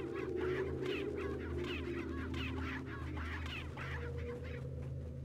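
Several chickens cluck in a steady, overlapping chatter over a constant low drone of game ambience in Resident Evil 4's village, with no talking.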